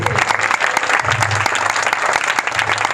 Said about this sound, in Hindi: अब मार दो ताली यीशु वास्ते